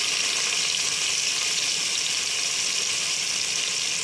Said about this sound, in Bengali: পেঁয়াজের কুচিগুলো দিয়ে দেবো, দিয়ে এটাকে ভালো করে ভাজবো।